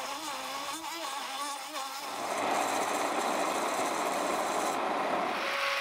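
A food processor whirs steadily as it purees chicken curry ingredients, a continuous close, loud grinding buzz that picks up and grows fuller partway through.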